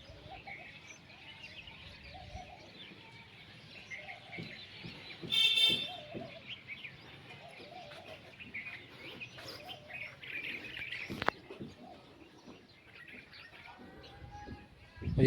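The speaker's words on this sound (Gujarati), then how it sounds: "ચકલીઓના અવાજ આવે છે, પક્ષીઓના બધાના અવાજ તમે સાંભળો" Sparrows and other birds chirp on a farm in the morning, scattered faint tweets and calls at a distance, with a louder burst of chirping midway and occasional soft thumps between them.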